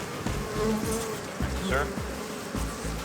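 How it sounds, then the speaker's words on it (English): A swarm of killer bees buzzes loudly around their hive during a removal job, a dense, continuous hum with a few brief knocks and a man's short spoken word underneath. "Probably have the whole damn hive out already."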